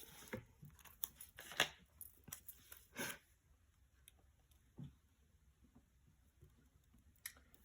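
Scissors snip paper being trimmed for a journal page, a scattering of quiet, close cuts and rustles spaced irregularly, with soft paper handling between them and no talk.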